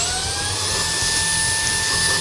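A shop vacuum runs as dust extraction for a DeWALT DWH161N rotary hammer's dust adapter, giving a steady, loud whine with a low motor hum that holds constant throughout, with no voices.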